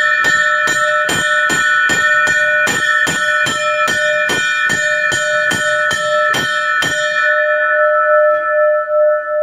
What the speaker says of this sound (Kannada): 21 ಬಾರಿ ಗಂಟಾನಾದ